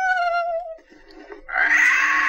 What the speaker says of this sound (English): it's just a parrot